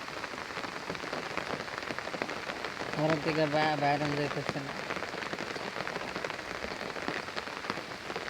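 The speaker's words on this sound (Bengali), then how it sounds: "আপনারা দেখেন বৃষ্টি কেমন বৃষ্টি নামছে" Heavy rain pours steadily on a Bangladeshi village, a dense continuous patter on surfaces, with someone speaking briefly in the middle over the downpour.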